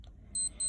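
A SMAEL TANK digital wristwatch gives two short, high-pitched electronic beeps as its alarm is switched off by pressing two right-side buttons together, close and clear over a quiet background.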